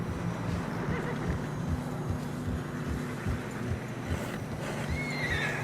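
Horses trudge through deep fresh snow on a narrow path in Red Dead Redemption 2, with steady plodding hoof steps, snorts and whinnies close by and faint wind behind.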